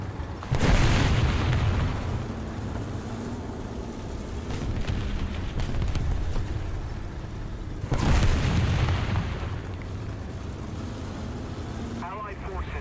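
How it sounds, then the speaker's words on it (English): Artillery barrage in a World War 2 tank game: two heavy booming blasts, one near the start and another about two-thirds through, over a constant low engine rumble, with game voices speaking between them. "Our sector is under artillery barrage!"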